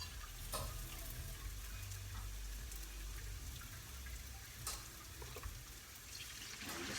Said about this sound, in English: Add that straight to your mushrooms, onions, and garlic, and you'll see that nice bubble